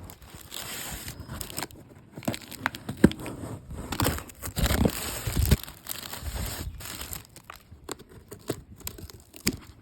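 Cardboard shipping boxes of nursery plants being opened and unpacked, with steady crinkling, crumpling and tearing of packing material close by, irregular bursts of rustling throughout and no talking.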